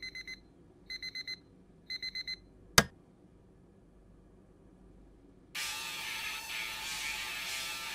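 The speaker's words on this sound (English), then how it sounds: "That sounds like our alarm going off." Video game alarm clock going off in three short bursts of rapid ringing beeps, followed by a sharp click and then a loud steady rushing noise.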